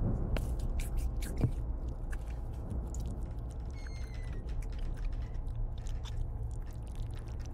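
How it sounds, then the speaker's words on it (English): Wet, irregular chewing and squishing noises from a horror video game play faintly and steadily under a constant low ambient drone, with scattered clicks and scrapes. "Sounds like someone's like chewing something."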